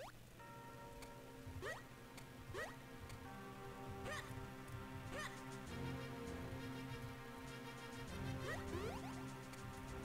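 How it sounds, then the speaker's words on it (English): Small birds in the video game The Legend of Zelda: The Minish Cap, chirping in short rising calls that repeat every second or so over a steady looping game tune, fairly faint and without talk. "there's a bunch of little birdies up here, which is cute"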